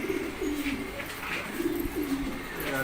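Racer pigeons coo repeatedly nearby, making soft, low rolling calls in a loose rhythm over a constant background hum.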